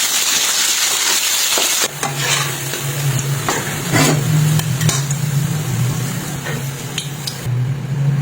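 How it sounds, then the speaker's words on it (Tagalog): Potatoes stir-frying in hot oil for chicken asado, a steady loud sizzle with scraping stirs and utensil knocks against the pan, no talking. "nagpainit na tayo ng mantika at saka natin i-stir fry ang mga patatas"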